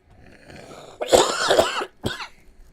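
A man coughs close to the microphone. A harsh, throaty cough of about a second is followed by a shorter second cough, after a low background murmur.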